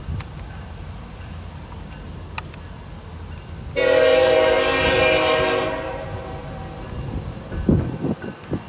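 A freight train horn blares in a long sustained blast, loud and fairly close, over a low rumbling background, fading into rumble and clanking near the end, in Fairbury, Nebraska.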